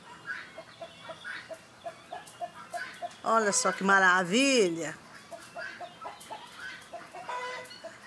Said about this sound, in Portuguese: agora que as galinhas tá descendo pro leiro